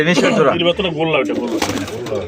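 Danish magpie pigeons coo close by, soft rolling coos mixed with someone talking over them.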